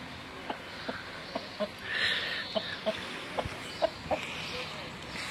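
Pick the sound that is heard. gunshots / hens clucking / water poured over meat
hens clucking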